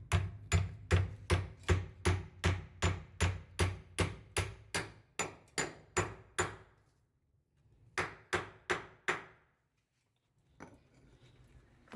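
A bolt is hammered into a drilled hole for a wall build, with about two dozen sharp, evenly spaced metallic strikes. The pitch shifts as the bolt bottoms out, and the series ends after a brief pause.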